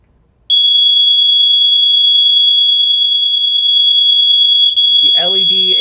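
A Whelen strobe-alarm goes off during a test with a sudden loud, piercing continuous tone, held steady and very close, and a voice starts talking over it near the end.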